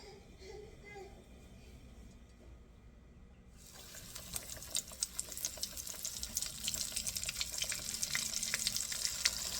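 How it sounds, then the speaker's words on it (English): Quiet at first, then a bright crackling sizzle of boneless milkfish deep frying in hot oil builds and keeps popping, with faint talk in the background. "let's do some frying"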